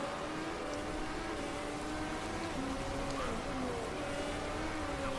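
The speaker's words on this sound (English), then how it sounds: "And here comes the rain." Steady rain hiss in the Motorsport Manager racing game, loud and continuous, with race car engines whining and shifting pitch faintly beneath it.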